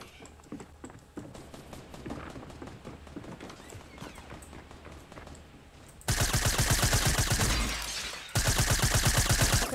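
Rapid bursts of submachine-gun fire from the video game Fortnite. Softer, scattered shots and clicks come first, then loud, dense automatic bursts near the end with a short pause between them.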